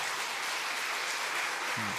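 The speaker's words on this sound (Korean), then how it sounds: "박수 크게 쳐주세요." Church congregation applauding during a Sunday afternoon service, a brief steady wash of clapping in a hall with a short low tone near the end.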